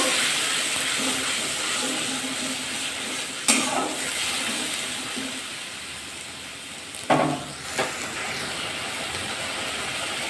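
Rohu fish frying in hot oil in a home kitchen, giving a steady, dense sizzle with a few sharper spatters and pops partway through, with no voices.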